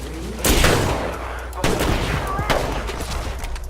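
Gunfire in the Apex Legends video game: loud bursts of automatic shots erupting around half a second and again midway, rattling on densely with game sound effects and short voice lines underneath.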